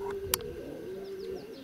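Wild birds calling outdoors on a cool, breezy day: a few faint, short chirps sound at a distance over a steady low hum and light wind.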